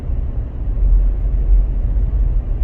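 2019 Toyota 4Runner Limited fitted with Ironman Foam Cell Pro suspension, driving on a gravel road: a loud, steady low rumble of tires and engine heard from inside.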